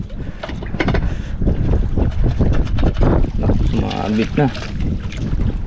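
Strong gusting wind roars loudly and continuously into the microphone outdoors, buffeting throughout, with a person speaking briefly beneath it.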